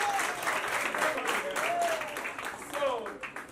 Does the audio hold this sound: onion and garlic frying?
no